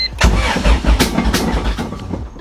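A B20-swapped EK Honda Civic cranks hard on its first start attempt, uneven thumping bursts stumbling as it almost catches, loud and close over about two seconds.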